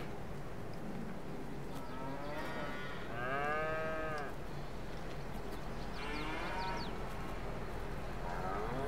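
Cattle moo in a barn in the Farming Simulator 22 game, a couple of long, drawn-out lows that rise and fall over a steady low hum, fairly close and with no talking.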